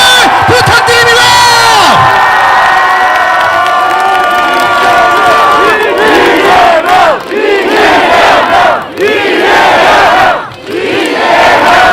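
A crowd at a political rally in a market in Incheon, South Korea, cheers and shouts loudly and continuously, with whoops and yells swelling over one another, briefly dipping a few times before surging back.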